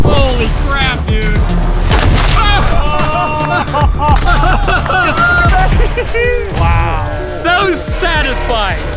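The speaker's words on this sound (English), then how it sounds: "I love these explosions" Repeated loud booms and crackling bursts of fireworks-like explosions, with excited voices and shouting mixed in throughout.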